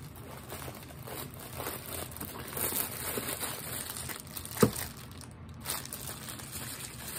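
Parts of an Ispire Daab e-rig vaporizer pulled one by one from foam packaging sleeves: faint, intermittent rustles and crinkles with a few sharper soft knocks, close and quiet, no talk.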